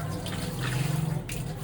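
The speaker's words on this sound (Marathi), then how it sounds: "आता इथे तुम्हाला मी पाणी ओतून दाखवतोय." Water poured from a container in a crowded shared bathroom area, a steady splashing pour running for over a second amid nearby background noise.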